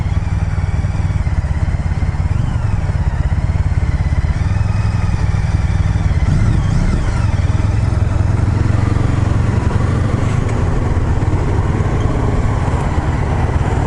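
2015 Honda CBR300R motorcycle engine while riding, a steady buzzing drone heard from onboard with wind rush, shifting pitch partway through as the throttle changes.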